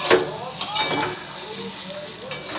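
Vegetarian chowmein tossed with turmeric sizzles lightly in a pan, a steady crackling fry broken by a few stirring scrapes and clinks close by.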